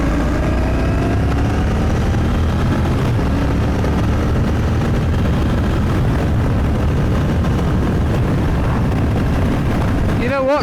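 A Royal Enfield Bear motorcycle accelerates hard in third gear to about 60 miles an hour, its engine roaring loud and close with rising pitch under heavy wind rush throughout.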